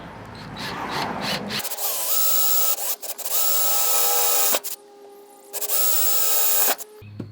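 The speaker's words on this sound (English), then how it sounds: "Why did I just drill these massive holes into the van?" A power drill whines in several long bursts, drilling large holes through the metal body of a Vanagon van, with brief pauses and restarts in between, close and loud.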